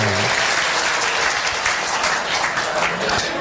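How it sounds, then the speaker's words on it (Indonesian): An audience claps steadily for a few seconds at a lively talk, the dense applause filling the room, with a faint voice at the start. "Tepuk tangan dengan."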